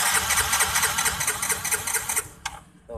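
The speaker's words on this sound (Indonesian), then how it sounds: "Coba kita starter." A Yamaha Mio J scooter that will not start cranks on its electric starter with a rapid, buzzing whir for about two seconds before stopping, followed by a couple of brief clicks.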